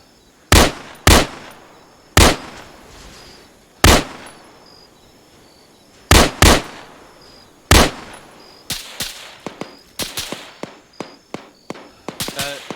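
Arma 3 battlefield gunfire: loud, close single shots spaced a second or two apart, then quicker irregular volleys of rounds building toward the end, each crack sharp with a brief echoing tail.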